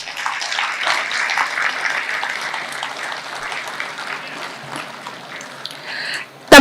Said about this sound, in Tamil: உங்களது கரகோஷத்தோடு